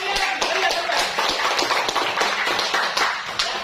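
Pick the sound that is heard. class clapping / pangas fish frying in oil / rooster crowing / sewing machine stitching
class clapping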